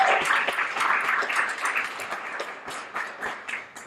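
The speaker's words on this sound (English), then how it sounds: "let's give them a round of applause" A small audience at an environmental agenda event claps for two people standing up, the applause thinning into scattered individual claps as it fades.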